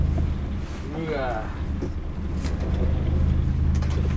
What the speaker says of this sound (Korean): 바람 많이 불면 나는 소리예요.